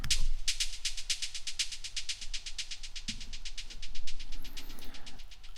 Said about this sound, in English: The first one is a hi-hat with a lot of delay.